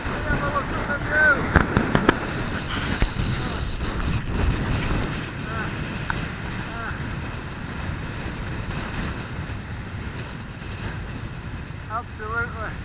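Strong wind gusting around a tent pitched on an exposed hilltop, a steady roaring buffet with louder bursts and fabric flapping, loud and close throughout with no talking.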